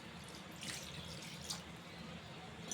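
Water runs and splashes into a bowl of jaggery in a couple of brief bursts over a steady low background hum.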